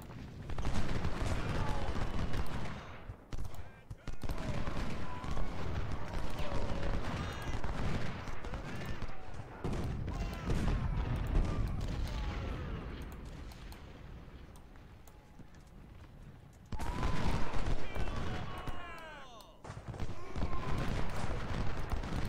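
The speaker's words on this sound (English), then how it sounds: "they're firing down a pretty steep hill" Dense gunfire and artillery booms from the Civil War battle game Ultimate General: Civil War, rolling volleys with dense crackle and a quieter lull mid-way, loud throughout with no talk.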